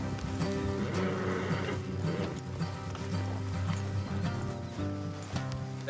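Horses' hooves clip-clopping at a steady walking rhythm in the video game Red Dead Redemption 2, heard under a dense, continuous layer of music and game ambience.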